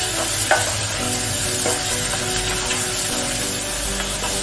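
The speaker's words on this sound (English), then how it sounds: "Stir, stir." Chicken sizzles steadily in a hot pan while being stirred, with soft scraping and clinks of the utensil over a constant frying hiss.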